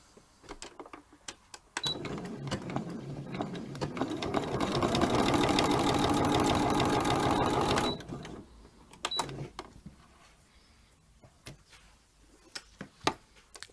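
A sewing machine running free-motion embroidery on applique bunting fabric, a dense steady whirring burst of rapid stitching in the middle, framed by quieter stretches of light clicks and handling noise.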